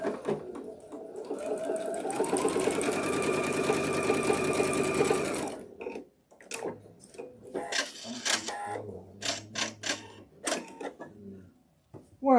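A Juki TL series sewing machine runs a steady, loud burst of stitching for about six seconds, then stops and gives way to short clicks and handling noises.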